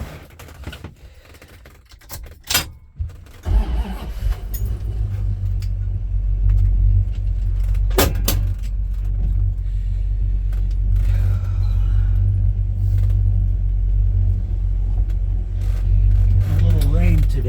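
A 1973 Dodge Charger with a 440 engine and four-speed, not yet warmed up: a few clicks and rattles, then the engine catches at about three seconds and settles into a loud steady low rumble, with occasional sharp knocks over it.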